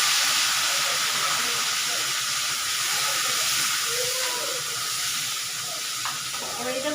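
Onion, ginger, garlic, green chilli and tomato paste hits hot oil in a pan and sizzles with a loud, steady hiss that holds for several seconds, with faint clatter mixed in.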